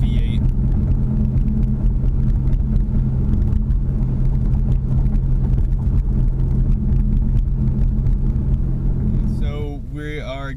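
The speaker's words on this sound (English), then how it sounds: "For a muffler and a resonator delete, this is honestly probably one of the quietest cars you'll find with that setup" A Ford Mustang EcoBoost with its muffler and resonator deleted, heard from inside the cabin as a steady, low, droning exhaust hum that holds evenly and eases off near the end.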